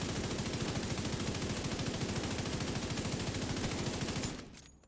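Assault rifle in The Division 2 video game firing a long sustained automatic burst, loud and continuous for about four seconds before cutting off abruptly, with no talking over it.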